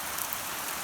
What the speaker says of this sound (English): It's raining pretty bad, actually.